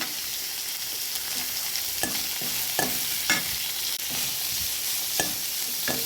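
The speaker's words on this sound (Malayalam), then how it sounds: "അതിനകത്തോട്ട് തന്നെ ഉള്ളി, ഇഞ്ചി, പച്ചമുളക്, കരിയാപ്പില എല്ലാം കൂടി വഴറ്റാനിട്ടു." Onion, ginger, green chili, curry leaves and cashew nuts sautéing in hot oil for aval upma give a steady close sizzle, with a spoon scraping and stirring the pan every second or so.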